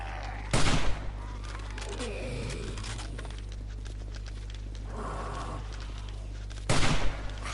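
Gunfire in the 7 Days to Die video game, two loud bursts of rapid shots spaced several seconds apart, over a steady low hum and background game noise.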